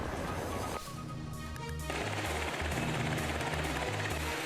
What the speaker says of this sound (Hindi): और गोलियों की बरसात की गई है।